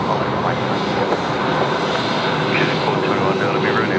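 An airliner departing for Dubai gives a steady, broad engine roar throughout, moderately loud, with faint radio chatter beneath it.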